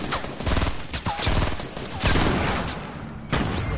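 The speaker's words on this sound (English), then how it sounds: "Oh my god, they're shooting me!" Rapid bursts of automatic gunfire crackle in a Fortnite match, loud clustered volleys with short gaps between them and ricochet-like whines, no talking over them.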